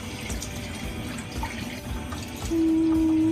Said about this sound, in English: Now you can add your chicken broth.